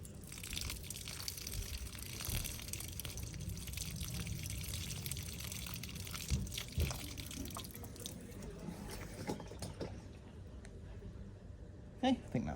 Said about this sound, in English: And try and water it more gently this time.